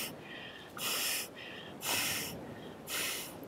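Soft, airy breaths drawn in and released through the nose in a slow guided meditation rhythm, with three or four breathy swells rising and fading over a few seconds, close and quiet.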